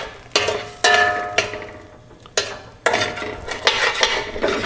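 A spoon stirring and tossing sautéed meat in a pan for au jus, with several distinct metallic scrapes and clanks against the pan at irregular intervals, close and fairly loud, with faint sizzling between strokes.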